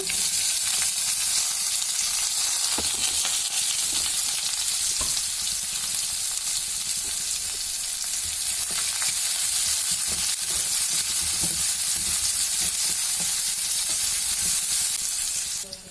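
Mustard seeds, half a spoon of chana dal, onion and green chilli fry in hot oil for a tomato bath, a steady close sizzle with faint stirring scrapes running throughout.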